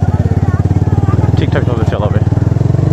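A motorcycle engine runs close by on a main road with a loud, steady low drone throughout, while people talk over it.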